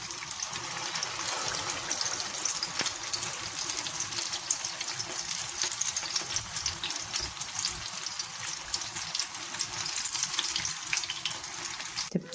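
Egg-dipped potato and cheese kebabs fry in oil in a frying pan, producing a steady, close sizzle with small pops that holds at an even level throughout, with no talking.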